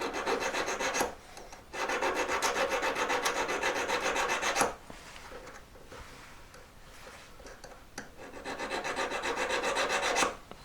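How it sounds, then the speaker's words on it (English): A square section file rasps a right-angled groove into a metal jewellery ring mount, with two long bursts of steady back-and-forth strokes separated by a quieter pause, close and clear with no talking. "Opening that up with a square section file now, so we get a perfect right-angled little cut in this metal."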